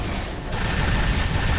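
Weapons firing in Unreal Tournament 3, a dense and continuous barrage of loud gunfire and blasts that holds steady from start to finish, with no talking over it.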